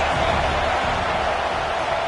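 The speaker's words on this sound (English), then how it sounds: "this crowd is turning it up a notch" Stadium crowd at a Michigan vs Penn State college football game, a loud, continuous, even roar of many voices with no breaks.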